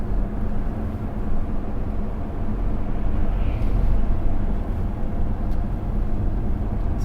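RWD drift car cruising a main street in Russia at minus 18 degrees: a steady, moderately quiet broadband rumble of engine and road noise heard from inside, with no distinct revs.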